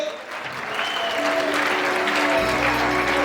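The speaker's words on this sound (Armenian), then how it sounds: "բարձր ծափարեք տատիկների ու պապիկների համար," A crowd at a family celebration honoring grandparents applauds loudly, with steady clapping that builds and holds for the whole stretch while a soft tonal background sound lingers underneath.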